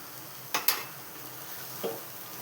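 Gongura chutney being mixed in a pan: two quick scraping clinks of a spoon against the pan, then a softer stir a moment later, over a faint steady kitchen hiss.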